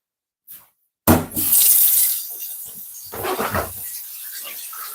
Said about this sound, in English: Get some water in this.